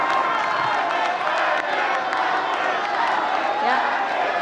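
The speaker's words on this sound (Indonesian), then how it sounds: "Boleh sekarang tepuk tangan, mari." A debate audience at the 2019 Indonesian vice-presidential debate breaks into loud, sustained applause and cheering that fills the whole hall.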